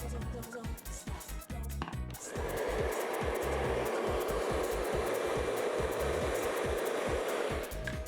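Hair dryer blowing while hair is blow-dried with a brush at home, a steady loud whooshing roar that starts after about two seconds and continues without a break. Clicks and handling noises come before it, and someone talks over it.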